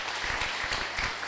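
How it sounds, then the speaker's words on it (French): Brief burst of applause for children at a Christmas church service, a crowd clapping steadily for just over a second without voices. "Acclamons pour les enfants."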